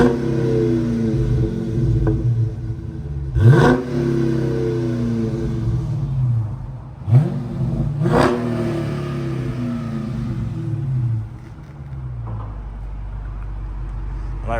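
Stock-exhaust Camaro SS or Scat Pack Charger V8 revving up close, rising and falling engine tones with two sharp throttle blips, then settling into a deep low idle rumble.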